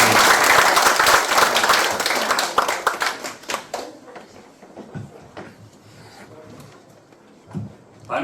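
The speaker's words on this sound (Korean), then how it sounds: "박수 부탁드립니다" Audience applause at a poetry book concert starts as dense, loud clapping, then thins into scattered claps and fades to quiet room noise, with a brief burst near the end.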